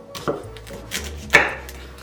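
A few soft knife knocks against a cutting board while halving soft tofu, spaced irregularly, with one sharper tap near the end; quiet and close.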